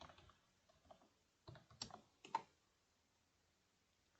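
Someone types a command on a computer keyboard: sparse, quiet clicks and short clustered keystroke bursts, close by, with pauses in between and no speech.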